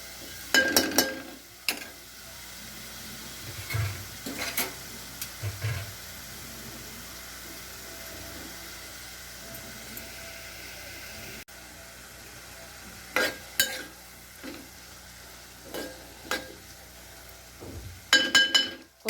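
Prawns and onions frying in a pan as a spoon stirs them, with a faint steady sizzle under intermittent clinks and scrapes of metal that come in short clusters, with no talking.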